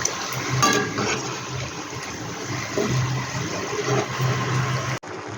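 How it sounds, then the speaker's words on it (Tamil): Chicken gravy boils in a pan, a continuous close bubbling and simmering wash of liquid with no talk over it. "சிக்கன் நல்லா பாயில் ஆகிட்டுருக்கு"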